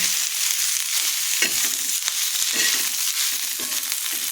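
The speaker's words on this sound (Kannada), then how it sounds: "ಇದು ಸ್ವಲ್ಪ ಎಣ್ಣೆದಾಗ ಬಾಡಬೇಕಿದೆ ಚಂದ" Drumstick leaves fry in oil in a pan for nugge soppu palya, a steady close sizzle with faint scraping as the greens are stirred.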